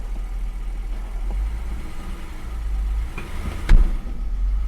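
A 1990s Audi 80 engine idles steadily nearby as it is put into reverse gear, with a low rumble and a brief clunk partway through.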